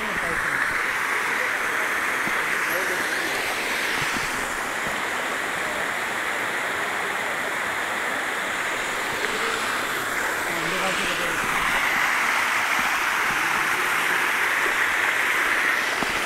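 A waterfall at Kalakad pours in a constant, loud broadband roar of rushing water that stays even and unbroken throughout.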